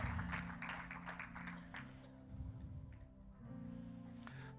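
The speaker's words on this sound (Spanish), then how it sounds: "Podemos darle un aplauso al Señor en esta hora." A church congregation on its feet applauding, dense clapping in the first couple of seconds that thins out beneath sustained organ-like musical tones.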